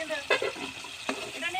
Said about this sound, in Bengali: এবারে চিংড়ি মাছ পড়ছে।